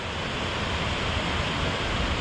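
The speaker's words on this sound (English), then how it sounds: "This is water from the canals." Canal water from a mill complex in Lewiston-Auburn, Maine pours out in a steady, dense rushing roar, loud and continuous with no break, heard from nearby in winter.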